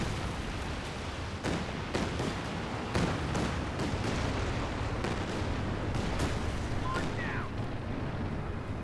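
Calliope rocket artillery fires during a Company of Heroes 2 match, a series of sharp booms and bursts over constant battlefield rumble, with a commentator talking throughout.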